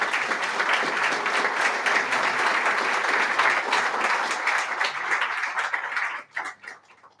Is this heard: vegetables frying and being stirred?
no